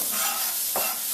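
Onion going into olive oil in a pan, with a steady broadband sizzle throughout and a brief stirring or scraping sweep near the middle; close and fairly loud, no speech.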